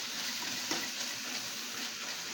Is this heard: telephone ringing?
no